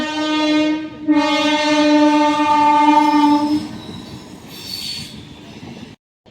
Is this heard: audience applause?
no